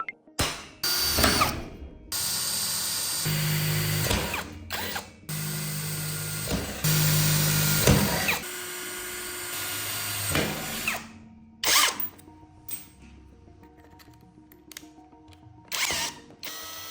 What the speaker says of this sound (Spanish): Roscamos todos los agujeros a métrica 4.